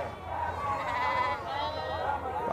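Goats and sheep bleat at a crowded livestock market in Campina Grande, Paraíba, with repeated wavering calls overlapping against a steady crowd murmur and nearby voices.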